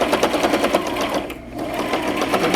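A sewing machine runs fast and close, stitching darts on a fabric bowl cozy, a steady rapid mechanical chatter with a brief pause midway before resuming.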